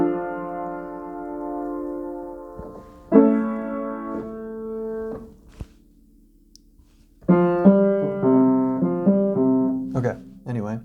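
Piano chords played in a short 2-5-1 cadence progression, three sustained harmonic chord groups separated by brief gaps, moderately loud and close with no talking.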